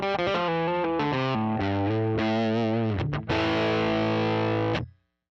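Electric guitar played through an Eleven amp model of a 1959 Fender Bassman, crunchy and pushed, with a run of distorted chords and single notes ending in a sustained ringing chord that cuts off; no talking.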